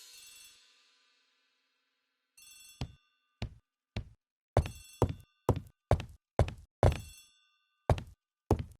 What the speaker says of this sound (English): The telephone in the hall is ringing.